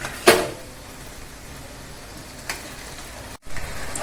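About ten to fifteen garlic cloves are dropped into hot oil in a pan, setting off a sharp burst of sizzling that settles into a soft, steady fry, with a brief stir and another flare near the end.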